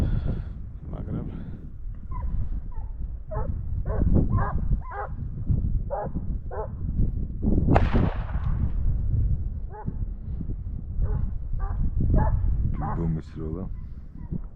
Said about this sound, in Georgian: გასროლა იყო ორი, არ ვიცი სარეკია